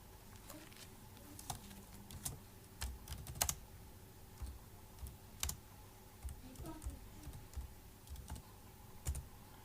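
Someone types code on a computer keyboard, entering a product code into a spreadsheet, with soft, irregular key taps and brief bursts of clicks that sound quiet and close, with no talking.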